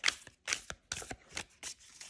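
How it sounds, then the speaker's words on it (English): Tarot cards of smooth, non-sticky cardstock being shuffled by hand, about five or six crisp riffling bursts in a quick rhythm, close and alone. "We shuffle it. It shuffles so nicely."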